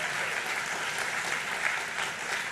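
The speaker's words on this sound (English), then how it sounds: "Give them a round of applause for that one really quick" A convocation audience claps steadily, a dense, even wash of applause filling the hall from start to finish at moderate loudness, with no cheering or voices standing out.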